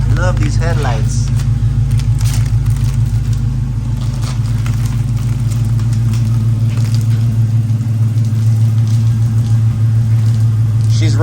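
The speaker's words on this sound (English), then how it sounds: "She's idling way better than she was. She sounds healthier." A V8 car engine with a Flowmaster exhaust idles with a deep, steady rumbling throb, close and loud, while people talk over it.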